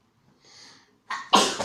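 A single loud, sharp sneeze with a quick breathy intake just before it, close up and otherwise quiet.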